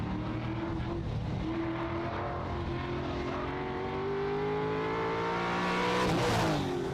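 A race car engine climbing a mountain hill course, a sustained loud roar with rising and falling rev pitch that swells toward the end, as if drawing nearer, heard alone without speech.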